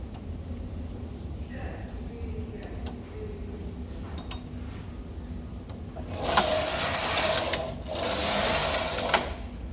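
A knitting machine carriage knits a row, a rising mechanical whirr and clack that swells in two loud bursts near the end, after quieter background rumble and small ticks under faint talk.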